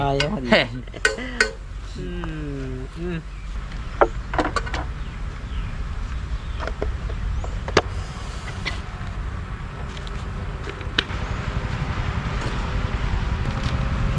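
Pots, pans and utensils clink and clatter while sambar is cooked, with sharp metallic knocks scattered over a steady background rumble and no clear talking.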